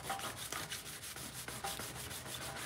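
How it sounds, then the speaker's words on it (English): Sanding a paint run out of the clear coat on a Volkswagen Beetle, a steady close rubbing scrape with rhythmic strokes and no talk. "So we're just gonna go ahead and sand that out."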